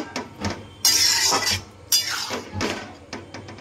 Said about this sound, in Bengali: এবার কর্নফ্লাওয়ারটা এর মধ্যে দিয়ে দেব। একসঙ্গে ভালো করে মিশিয়ে নেব।